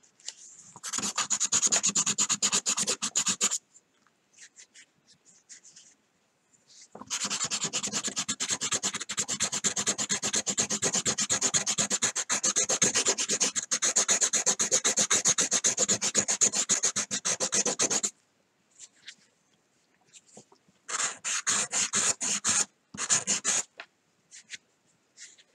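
A hand-carved fishing lure being sanded smooth, with long stretches of dry, raspy rubbing broken by short pauses and a few brief bursts of strokes near the end, close and fairly loud.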